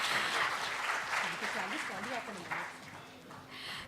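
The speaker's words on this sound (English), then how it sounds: "so the audience can have a round of applause in introduction" An audience at an architecture forum technical session claps to welcome a speaker being introduced, with moderate steady applause that tapers off as a voice begins talking over it.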